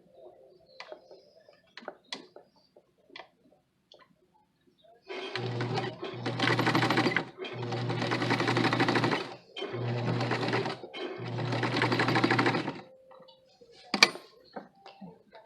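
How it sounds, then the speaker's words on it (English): A sewing machine stitches two pattern pieces together in four close, steady bursts of whirring, with light clicks and handling noises before and after. "We're gonna sew right there it's essentially just to keep the 2 pieces together."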